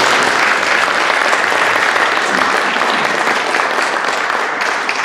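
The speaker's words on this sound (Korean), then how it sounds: "박수 한번 주십시오." An audience at a forum on the Korean film director Lee Jang-ho claps in sustained, even applause, loud and close, filling the whole stretch without a break.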